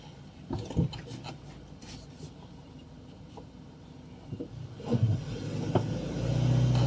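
A car drives slowly along a quiet road in Smokey Vale, Jamaica, its engine a low, steady rumble with occasional bumps and thumps from the road surface, heard close from inside the vehicle.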